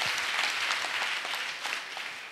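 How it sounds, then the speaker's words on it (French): A church congregation at a missionaries' retreat applauds in praise of Jesus Christ, a dense sustained burst of clapping from a crowd filling the room throughout. "Acclamation à Jésus-Christ."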